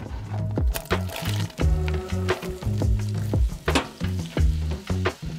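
Unsalted butter and chopped onion sizzle in a Dutch oven at a cold coastal truck campsite in Washington, a close crackling fry mixed with repeated stirring scrapes and soft liquid squishes in an uneven rhythm.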